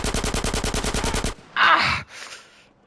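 Automatic AK rifle fire in Grand Theft Auto San Andreas Definitive Edition rattles off in a fast, loud, even burst of about a dozen shots, then cuts to a brief harsh whooshing blast and quiet tail.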